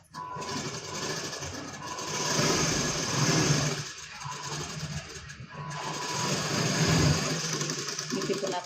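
A sewing machine runs steadily while stitching blouse fabric, a continuous mechanical whir with slight rises and dips in speed across the whole stretch, close and fairly loud with no talking.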